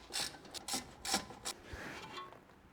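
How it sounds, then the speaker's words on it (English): Brisk rasping and rubbing strokes come from cleaning the brake caliper guide pins on a BMW E91, about five short scrubbing bursts close by and faint, with no talking. "Clean up the guide pins."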